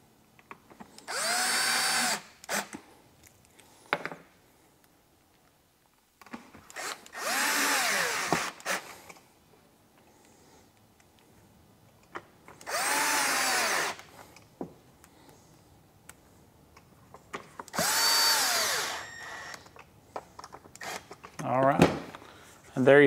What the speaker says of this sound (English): so we're going to put some better screws in place.